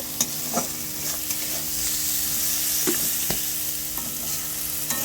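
Chicken meat sizzles in a hot pan while being stirred, a steady frying hiss broken by repeated scraping and clanking strokes of the spoon, close and clear with no talking.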